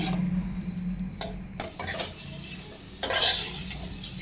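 Scraping and clattering of a utensil stirring ripe snap melon pieces in a pan, with a brief louder scrape near the end; no voices.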